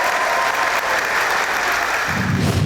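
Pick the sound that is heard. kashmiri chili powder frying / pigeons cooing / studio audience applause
studio audience applause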